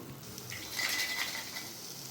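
A spoon scrapes and clinks against a pan while pineapple kesari bath is stirred, a brief soft metallic rasp with a faint ring in the middle, close and alone.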